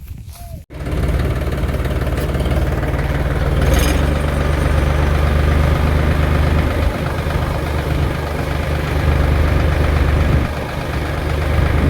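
A tractor engine idles with a steady low diesel rumble while a loaded trolley is tipped for dumping, loud and close, holding constant after a brief knock at the start.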